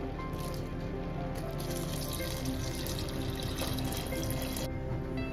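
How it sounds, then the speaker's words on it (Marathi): Water poured into a pot of steamed Rushichi bhaji vegetables, a continuous close splashing and gurgling stream lasting several seconds before tapering off. "आता आपण याच्यामध्ये पाणी ऍड करणार आहे."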